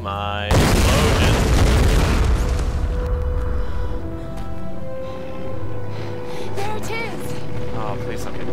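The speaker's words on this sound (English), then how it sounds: "Oh my explosion." A loud explosion bursts in the Tomb Raider video game during a plane crash sequence, a sudden heavy boom that decays into rumbling debris and crackle, followed by lighter clanks and tonal game sounds.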